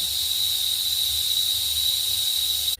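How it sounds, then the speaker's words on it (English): Steady high hiss of steam from amla lehyam steaming over a mid flame, continuous and close with a thin whistle-like tone held throughout, no voices. "So in mid flame, I'm going to steam this for 15 minutes."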